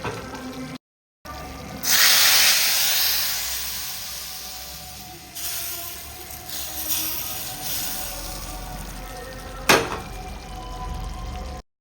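Tempering of vadavam sizzles as it is poured into a neem flower kuzhambu, a loud burst of hissing frying that fades into a steady sizzle, with a sharp crackle near the end.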